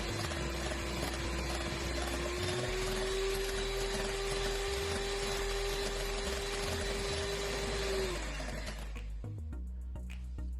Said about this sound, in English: give it another whisk for about 30 seconds or so and it'll be perfect